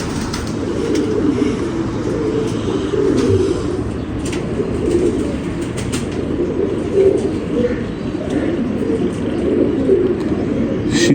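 Pigeons kept for flying competitions coo steadily in soft, throaty, overlapping calls, close and continuous over low background hum, with faint voices now and then.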